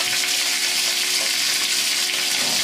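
Oil heating in a wok over high flame as the pan is swirled, a continuous loud sizzle and crackle with no voices.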